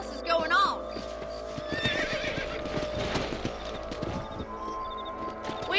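Horses neigh and whinny over steady clip-clopping hooves in Red Dead Redemption, with voices talking throughout and a busy, layered game soundscape.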